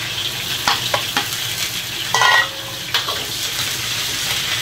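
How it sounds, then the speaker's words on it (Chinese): Sauce goes into a hot wok of pork trotters with ginger, a strong steady sizzle with a few stirring knocks and a brief louder hissing surge as the liquid hits the pan, close and clear. "酱料下锅"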